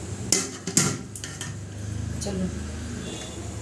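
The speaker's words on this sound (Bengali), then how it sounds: "তাই এখন সিলটা দিয়ে দিচ্ছি চাপা" A heavy grinding stone is set on the lid of a chicken biryani pot, making two sharp, close clunks of stone on metal, followed by a person talking.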